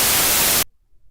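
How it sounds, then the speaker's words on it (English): White noise generated in an audio editor plays as a loud, dense, full-band hiss for about half a second and then cuts off abruptly into near silence. "Okay, white noise, pink noise."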